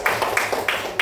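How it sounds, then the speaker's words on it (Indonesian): A classroom group applauds during a prize announcement for winning teams, with brisk, steady, rhythmic clapping from a few nearby hands and no talk. "Ya, tepuk tangan dulu."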